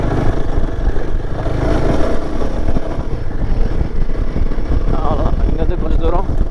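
A Royal Enfield Himalayan 450 motorcycle riding off-road near Vellore, with the engine running steadily up close amid rattles and wind, and people talking over it.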